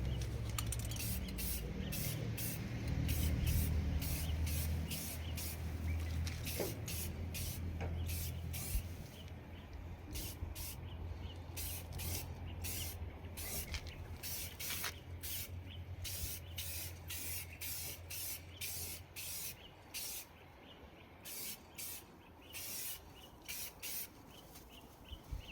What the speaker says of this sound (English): So I'm going to go around the corners and then I'll finish off the open areas.